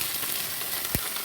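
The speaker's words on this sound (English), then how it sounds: "if you hear that sizzling, that's what you want to hear" Steak and noodle stir fry ingredients sizzle in a pan with very little oil, a close, steady hissing crackle with one brief clink of stirring partway through.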